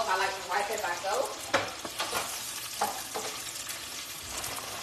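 Fish frying in vegetable oil on a stovetop, close steady sizzle and crackle with occasional stirring scrapes and bumps; no talk.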